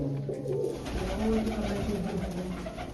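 Pigeons coo steadily in a loft or yard, soft low repeated calls overlapping one another, close and continuous, with faint background murmur of voices.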